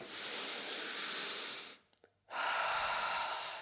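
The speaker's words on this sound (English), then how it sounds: "You need to actually practice this if you're not used to breathing with your belly." Slow, deep belly breathing: a long airy inhale, a brief near-silent pause, then another long breathy exhale, close and alone.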